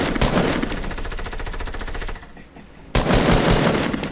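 Rapid automatic gunfire in a first-person shooter game, loud and sustained bursts with a brief lull before another burst resumes; no talking.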